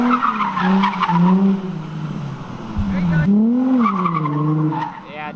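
RB25-powered 240SX coupe accelerating hard with tires squealing as it skids, rising and falling engine tones under excited voices.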